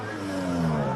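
Mazda RX-7 rotary engine revving hard as the car launches at a classic car speed event in Cape Town, a loud buzzing, rising engine note heard close.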